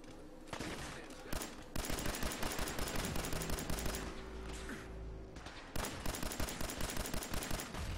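Rapid bursts of 10 mm pistol fire in Fallout 4, loud dense volleys of shots in quick succession, broken by brief pauses, with combat noise and a low hum beneath.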